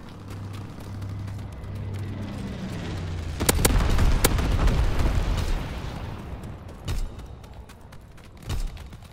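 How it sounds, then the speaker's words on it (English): Incendiary bombs from a low-altitude bomber burst in a World War II multiplayer shooter game, a loud rumbling blast cluster midway followed by two sharper, fainter booms, with a low engine drone beforehand. "Low altitude bomber inbound. Dropping incendiary."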